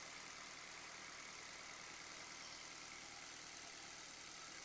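A Daihatsu Gran Max engine idling after sitting unused for a long time, a steady, even hum that holds without change, faint and without speech.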